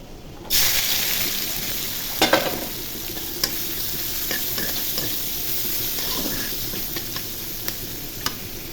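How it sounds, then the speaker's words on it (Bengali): Onions dropped into hot oil after fish has been fried, setting off a sudden loud sizzle that holds steady, broken by light taps and clicks from stirring. "তেল গরম হয়ে গেছে এখন পেঁয়াজ দিয়ে দিব"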